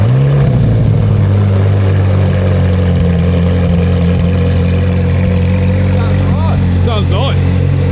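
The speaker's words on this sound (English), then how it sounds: "we need to do the obligatory start up without the back box to see what it sounds like" A car engine started without its back box settles into a loud, steady, deep idle with a rough rumble, and voices briefly break in near the end.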